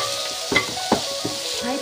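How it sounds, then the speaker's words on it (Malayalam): Tomato is stirred into beef chukka frying in a pan, giving a steady close sizzle with a few sharp scraping and clinking strokes of the spoon against the pan. "ഇതിലേക്ക് നമുക്ക് ഇന്നത്തെ ആ തക്കാളി കൂടി അങ്ങോട്ട് ചേർത്ത് കൊടുത്തിട്ട് നന്നായി ഇളക്കിക്കൊണ്ടേയിരിക്കുക."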